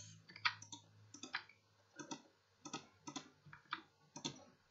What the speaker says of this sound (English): Sorry if you can hear clicking, that's just me spamming my mouse.